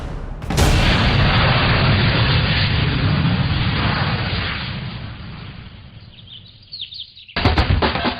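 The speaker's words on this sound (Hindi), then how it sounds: "इस ब्रिटिश मेजर के घर में बम के धमाके कर रहा है?" Bomb blasts going off at a British major's house in a South Indian action movie dubbed in Hindi: a loud, booming explosion followed by a long rumbling roar that slowly fades, then a second burst of loud crashing at the end.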